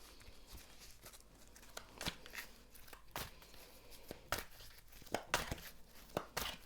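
Tarot cards being shuffled by hand, a run of crisp papery riffles and crinkly flicks with sharp bursts at irregular intervals, close and fairly quiet with no talking.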